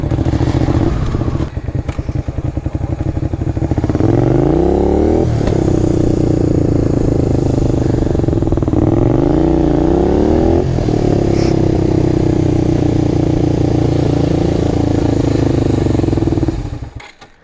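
A Honda VTR 250 motorcycle engine rumbles steadily up close, revving up and easing back down a couple of times before settling into a loud idle that cuts off.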